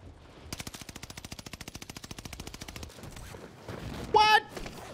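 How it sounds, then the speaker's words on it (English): Warzone gunfire aimed at the player, a rapid even burst of automatic shots lasting a couple of seconds, fairly close, followed by scattered game noise and a brief tonal beep. "they're shooting at me already"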